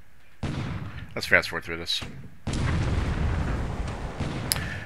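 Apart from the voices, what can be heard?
cruiser bombardment artillery fire in video game War in the Pacific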